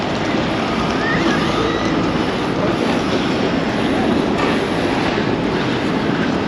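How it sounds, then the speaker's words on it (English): A tram passes on a Prague city street with a loud, continuous rolling rumble and steady rail noise throughout, close by and without clear talk. "that's the tram there that I want to catch"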